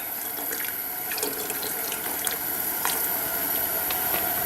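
Cold water poured into a camp coffee pot at a campsite, a steady close splashing trickle with faint bright clinks, running continuously for several seconds without speech.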